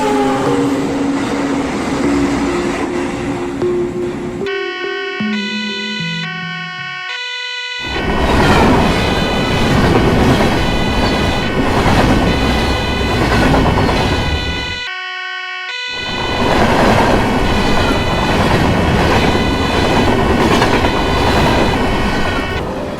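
Animated locomotive running on rails, loud and continuous rumble with rhythmic clatter, broken by brief horn-like tonal bursts around the pauses; no talk.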